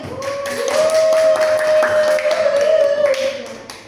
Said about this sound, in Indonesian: Beri tepuk tangan dulu untuk Gilda karena sudah berani.